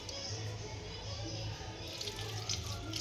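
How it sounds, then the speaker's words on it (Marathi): Water poured over cut brinjals (eggplants) in a kitchen vessel, a soft continuous trickle and splash with faint drips, quiet and close, no talk. "तर आता मी ही वांगे त्याच्यात पाणी टाकून घेत आहे।"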